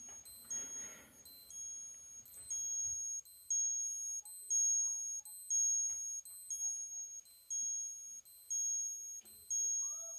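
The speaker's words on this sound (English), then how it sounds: "that's what the alarm sounds like." A Seiko 7T32-7E50 quartz pilot chronograph's alarm beeps in a steady series of short high electronic pulses, fairly quiet and close, with a moment of faint handling noise at the start.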